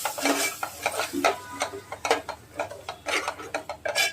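A spoon stirs a large spoonful of yogurt into chole masala frying in oil in a pan for chole bhature. Repeated scraping strokes of the utensil run over a light sizzle, close and steady, with no voices.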